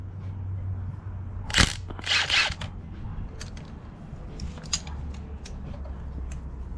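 Wrench clicks and metallic ratcheting as a nut is backed off an engine stud on a Honda B16A2 engine, several short bursts of clicks over a steady low hum.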